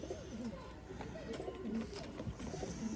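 Sialkoti pigeons giving repeated low, rolling coos close by, several overlapping calls continuing throughout at moderate volume.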